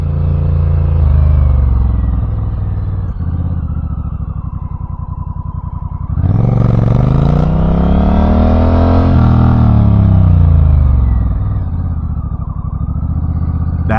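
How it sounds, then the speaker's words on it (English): A motorcycle on a practice lot slows through a normal, non-emergency braking maneuver: a steady engine drone, then a louder revving swell and a falling pitch as it decelerates, with no talk. "Now let's practice a braking situation if we're not emergency braking, but just doing a normal brake in that situation."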